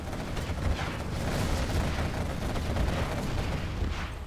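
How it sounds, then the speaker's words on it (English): Artillery in a real-time strategy video game pounds enemy markets in a steady, dense rumble of booms and gunfire, with continuous, loud low-end noise throughout. "Artillery can keep picking off markets all day long."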